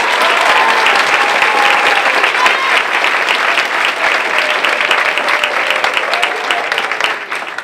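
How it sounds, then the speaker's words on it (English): A crowd claps steadily in sustained applause for teachers at a student film awards event, dense and loud, tapering slightly toward the end. "let's give the teachers another round of applause."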